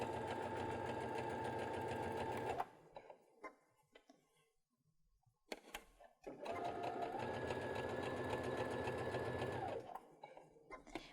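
A Baby Lock sewing machine with an invisible zipper foot runs in two steady bursts of fast rhythmic stitching, close and loud, separated by a quiet pause with faint handling noises.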